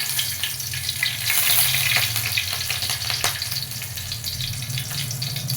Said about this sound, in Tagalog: Gisa muna po natin yung bawang.